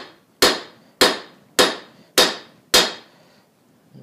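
A blacksmith's hammer strikes hot steel while a slitting chisel is forged, five sharp, ringing blows at an even pace about half a second apart, close and loud, each fading quickly.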